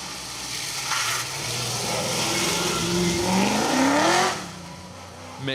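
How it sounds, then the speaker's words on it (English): Chevrolet Vauxhall Firenza Can-Am rally car on a historic rally festival stage, engine rising in pitch as it accelerates past at moderate distance, then fading quickly as it moves away. "absolutely smoking their tyres in that Chevrolet Vauxhall Forenza, the Can-Am car"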